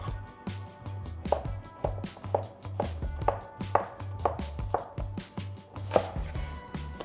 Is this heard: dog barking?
no